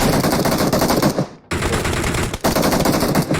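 Rapid automatic M762 rifle fire in PUBG Mobile, loud and close, in sustained bursts with a brief pause around the middle and a short gap near the end.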